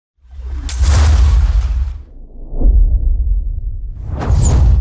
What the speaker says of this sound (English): These are sort of the whoo kind of airy effects, also transitioning you into the next part of your music or your trailer.